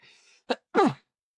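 A person sneezes, a short breathy intake and then a sharp burst with a brief vocal tail, close and loud, alone in quiet.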